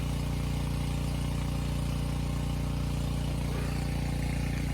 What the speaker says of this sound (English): the tractor that I'm sitting on, it's not strong enough to drag these logs